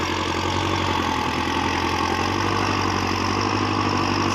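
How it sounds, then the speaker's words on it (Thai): A John Deere turbo tractor ploughing heavy clay soil, its engine running hard with a loud, steady, dense drone and rough low-end knock throughout, close up and unbroken, with no voices. "เดี๋ยวเบิ้งพลัง เทอร์โบจอนเดียครับฟังเสียงนะครับ"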